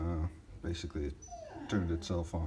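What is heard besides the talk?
dog whimpering in the background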